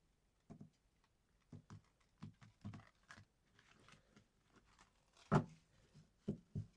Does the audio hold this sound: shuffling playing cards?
yes